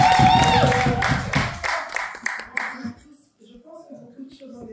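Audience applause for a federal deputy, a dense clatter of hands at first that thins into scattered claps and fades out, with talk over the start.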